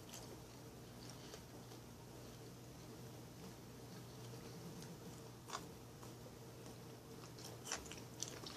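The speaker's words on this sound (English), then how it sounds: "I'll take a bite of the asparagus." Someone bites into and chews cooked asparagus close to the mic, with soft crunches and wet mouth sounds over a steady low room hum, a few sharper bites standing out.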